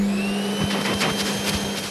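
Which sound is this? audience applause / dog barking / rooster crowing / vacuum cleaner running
vacuum cleaner running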